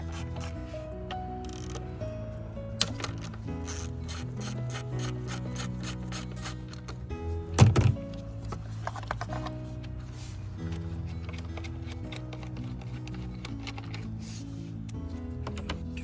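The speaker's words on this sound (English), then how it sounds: "Go ahead and unscrew them." A wrench works two 8mm bolts loose on the purge valve of a 2015 Ford Explorer, giving quiet, close metallic rubs and ratcheting clicks over faint background hum, with one louder clunk partway through.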